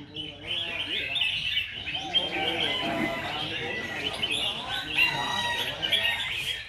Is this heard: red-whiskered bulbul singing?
yes